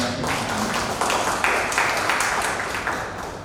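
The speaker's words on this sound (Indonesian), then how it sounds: "Tepuk tangan dulu mudah-mudahan" An audience at an ICMI regional assembly (Musyawarah Wilayah) in West Kalimantan applauds, a sustained, dense wash of many hands clapping at moderate loudness that tapers slightly toward the end.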